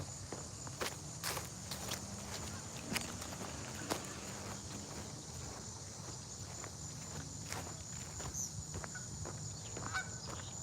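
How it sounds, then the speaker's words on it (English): Geese honk at a football field outdoors, faint and distant calls scattered through a quiet ambience, while nearby footsteps crunch along at a steady walking pace. "There's all the geese at the football field."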